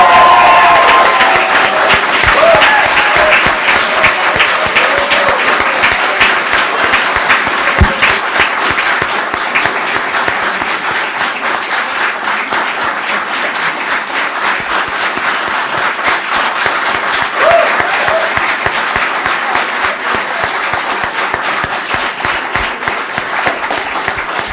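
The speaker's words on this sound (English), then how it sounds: "I think she deserves another round of applause." Sustained audience applause at the Africa Together Conference, dense rapid clapping from a large crowd, loud and steady throughout before thinning slightly toward the end.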